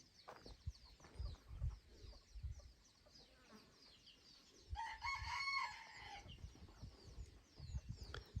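A jungle fowl rooster on a farm crows once clearly at mid-distance, among soft clucks and scattered farmyard noises.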